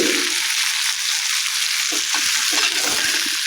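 Herb leaves sautéing in a pan for a herbal chutney, giving a steady close sizzle with soft intermittent stirring scrapes and no talking.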